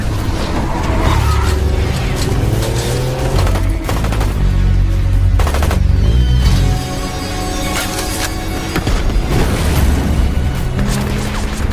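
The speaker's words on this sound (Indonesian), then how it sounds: "pasukan Shadow Force menyerang dengan tembakan membabi buta. Bahkan sebuah truk besar mencoba menghantam mereka." Action-film scene of heavy gunfire with a large truck ramming an armed squad: dense, loud rumbling engine and crashing booms with bursts of shots and screeching skids, continuous and chaotic throughout.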